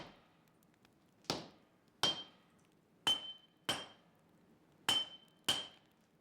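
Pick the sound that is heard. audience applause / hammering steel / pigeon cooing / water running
hammering steel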